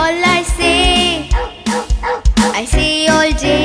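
In a children's animal nursery rhyme, a loud, close dog barks in short repeated bursts set to the music's rhythm, with sung melody and instruments running around and between the barks.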